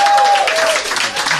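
Brief burst of audience clapping and crowd noise at a live comedy podcast show, loud and dense, with a voice cutting across it.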